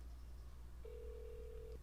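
A phone call to a dental office rings out: one steady ringback tone about a second long, faint and clean over a low hum, with no talking.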